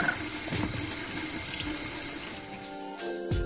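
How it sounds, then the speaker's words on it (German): Tap water runs steadily into a sink or basin while a puppy tries to keep it from draining away; a continuous close splashing rush with a brief dip near the end, no voices. "Guckt mal, wie hartnäckig das Kerlchen es versucht, das Wasser vom Abfließen abzuhalten."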